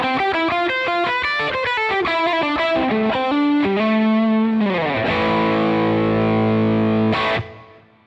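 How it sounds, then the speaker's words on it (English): Electric guitar through a Marshall SV20 Plexi amp, played loud and distorted: a quick run of picked single notes climbing, then a ringing, sustained chord that cuts off abruptly. "So, here's the sound of the Plexi."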